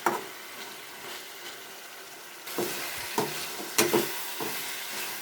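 Mango pieces cook in a pan for an egg curry, a soft steady sizzle that grows louder midway, broken by several sharp scraping stir strokes.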